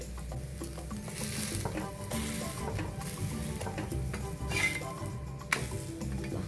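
Mixed lentil dhirde frying in oil on a pan over medium heat, a continuous close sizzle with occasional scraping and clinking of a spatula against the pan.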